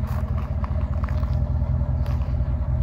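A 2017 RAM 1500 pickup with a 5.7-litre engine idles close by, a steady deep low rumble with a faint pulsing throb that holds evenly throughout, with no talk over it.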